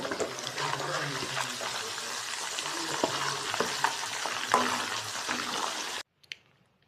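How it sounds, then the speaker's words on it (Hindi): Fish fries in hot oil with a steady crackling sizzle and occasional sharp pops and utensil clicks, continuing for several seconds before cutting to near silence. "तो ये फ्राई हो रही है।"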